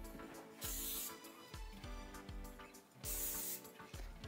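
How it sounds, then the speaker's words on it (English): Two bursts of nonstick cooking spray from an aerosol can hiss over a sink, each about half a second long and close, with faint clattering and background music between them. "So I'm gonna spray over the sink."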